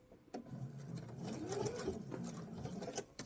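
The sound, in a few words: sewing machine stitching pouch fabric to the edge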